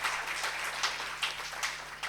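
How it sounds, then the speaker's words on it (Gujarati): An audience at a Navajivan Talks event claps steadily and fairly softly, a continuous patter of many hands with small swells, heard from a distance in the hall. "એટલે સૌથી પહેલાં તમારા બધા માટે તાળીઓ થઈ જાય"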